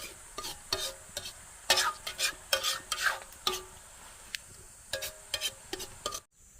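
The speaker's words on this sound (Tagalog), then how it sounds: "At madali naman pong maluto yung hipon." A spatula scrapes and stirs sand shrimp with banana heart in a pan for a farm-style tinumis dish, making quick irregular strokes over a soft, steady sizzle, close and fairly loud.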